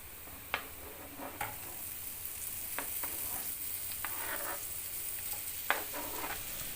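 Onions and potatoes sautéing in a pan for a leftover-sambhar breakfast, with a steady close sizzle and scattered spatula scrapes and taps against the pan.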